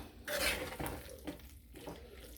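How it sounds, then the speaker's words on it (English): A spoon scraping and clattering through corned beef and baked beans in a pot, a few soft irregular strokes close by in a quiet kitchen. "We're going to mix this up."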